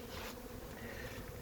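Honey bees buzzing steadily at a hive, a dense continuous drone close by with a brief brighter swell near the start, no voices.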